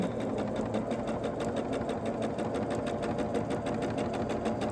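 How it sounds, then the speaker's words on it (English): A sewing machine steadily stitches a quilt block along a marked line, giving a fast, uniform rhythmic clatter heard up close with no talk over it. "I'm going to sew on the line this way, exactly the same way I sewed the other one"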